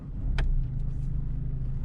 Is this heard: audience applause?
no